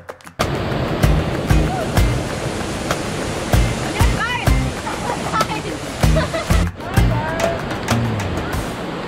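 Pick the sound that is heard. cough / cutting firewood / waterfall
waterfall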